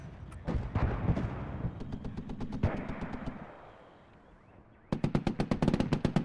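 Artillery in the military strategy game WARNO fires high-explosive shells in a rapid series of sharp, punchy blasts, then a fading rumble and a brief lull before another fast volley of loud rhythmic shots.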